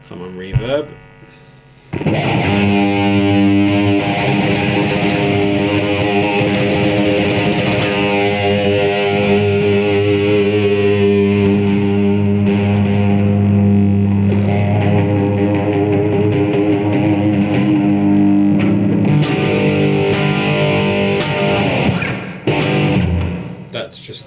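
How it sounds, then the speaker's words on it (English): A sustained electric guitar chord through a Line 6 POD 2.0 amp modeler rings out, washed in heavy reverb and a slight distorted edge, holding steady for many seconds before cutting off. "I love the reverb on the pod."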